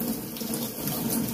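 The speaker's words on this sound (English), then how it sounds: "let me rinse my brush out here" A water tap runs while a shaving brush is rinsed under it, giving a brief, steady hiss of flowing water close by with no speech.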